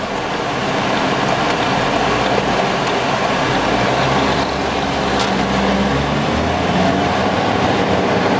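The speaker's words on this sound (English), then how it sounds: "We're taking the car on the road now." A 2006 Mini Cooper rolls along the road, heard from inside as a steady low rumble of engine and tyre noise, constant and fairly loud throughout.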